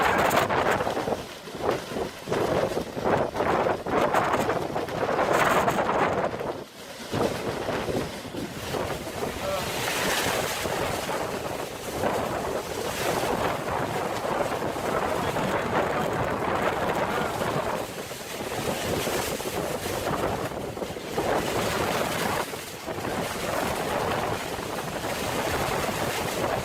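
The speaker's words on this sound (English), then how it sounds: "The storm's hitting crazy hard," Storm Eleanor's strong gusting wind and crashing waves batter a sailboat, a loud, continuous roar with heavy wind buffeting on the microphone and surging water.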